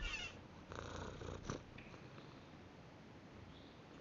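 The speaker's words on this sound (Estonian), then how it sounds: "Ma kassi kuulsin." A domestic cat purrs softly and close by in a quiet room, the purr fading in and out in short stretches, with a small thump near the end.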